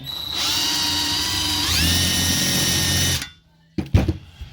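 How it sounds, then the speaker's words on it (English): Countersink tool cutting into a Vintage Air controller panel on a C3 Corvette, a steady loud whirring grind that rises in pitch partway through, cuts off, then gives way to a couple of sharp clicks. "take your little countersink tool into this left hand"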